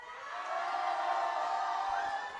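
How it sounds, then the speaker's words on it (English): Spectators cheer a college woman's successful 122.5-kilo third attempt at a raw powerlifting meet, a steady, swelling wash of crowd roar and shouts that holds loud throughout. "I don't know if you guys can hear that crowd cheering for her"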